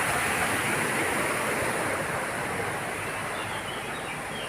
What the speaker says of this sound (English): These are the different fountains.